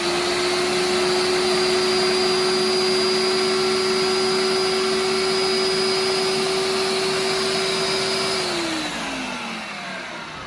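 Blender running steadily, pureeing pesto with one third cup of olive oil added, for Chef Kevin Belton's pesto pasta with shrimp; a loud constant motor whine that drops in pitch and winds down near the end.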